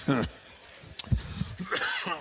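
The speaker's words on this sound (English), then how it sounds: "There's your cough." A single short cough rings out close by, followed by a brief throat-clearing sound and light voiced murmurs.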